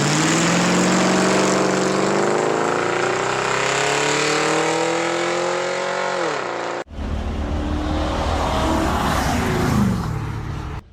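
Ford Crown Victoria 2-valve V8 fitted with a CanShifter shift kit, revving loudly and climbing steadily in pitch before a sharp cut, then a second loud acceleration at close range.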